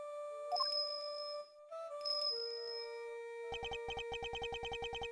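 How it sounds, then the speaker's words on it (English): Bells announcing the blind butcher in the Ace Attorney Investigations video game, a chiming sequence of ringing tones sustaining and overlapping, then rapid repeated bell strikes in an even rhythm, clear and fairly quiet, no voices. "His appearance was always announced by the sound of bells."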